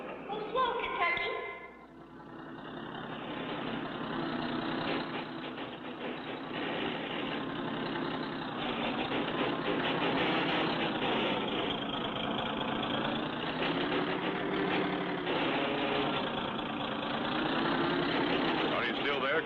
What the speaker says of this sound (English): That car will pull us right up.